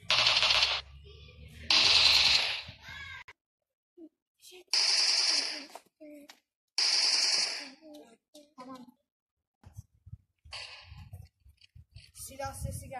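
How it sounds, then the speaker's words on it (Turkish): Rapid bursts of automatic gunfire crack out in several short volleys, loud and close, separated by pauses with scattered clicks and faint background activity. "Silah sesi geldi."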